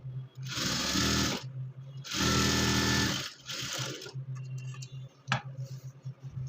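A sewing machine stitching the back part of a blouse runs in two long, loud whirring bursts close by, then a shorter burst, followed by softer handling clicks and a sharp tap.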